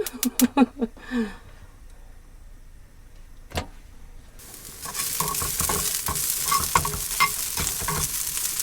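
Food sizzling in a hot pan to crisp up, a dense hiss that swells loud after a few quiet seconds, with scrapes and clatters over it.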